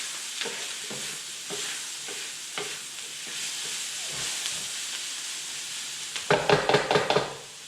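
Spices stirred and frying in a pan for lobster Singapore noodles: steady hiss and sizzle with repeated scraping strokes, ending in a louder burst of clattering stirs.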